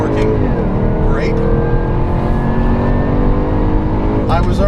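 A 2016 Jaguar F-Type R AWD coupe at speed on a race track, its engine a loud, continuous drone with rising and falling pitch as it accelerates and shifts, while someone talks over it throughout.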